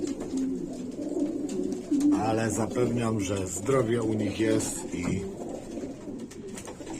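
Young racing pigeons in a loft coo in soft, repeated throaty phrases close by, partly overlapping someone speaking Polish throughout.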